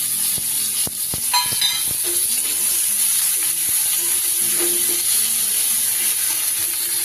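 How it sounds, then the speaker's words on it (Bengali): Dried red chili and chopped onion frying in hot oil give a steady, close sizzle throughout, with occasional scraping stir clicks and no talking. "এবার এই তেলেই দিয়ে দেব একটা শুকনো লঙ্কা, তারপর দিয়ে দেব একটা কুচনো পেঁয়াজ।"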